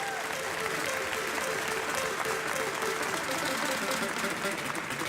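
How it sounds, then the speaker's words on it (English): Loud, sustained applause from a large audience, steady clapping filling the room for several seconds. "I would hope that you give a huge round of applause"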